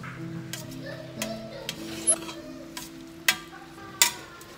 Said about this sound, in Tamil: மசாலா பொருள்லாம் மஷ்ரூமில் நல்லா கலந்து விட்டுட்டு 5 மினிட்ஸ் நல்லா வதக்கி விடலாம்